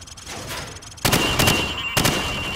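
Hip-fire gunshots at targets in the Call of Duty 4 training range: after a quiet stretch, two loud, sharp bursts of close gunfire ring out about a second apart.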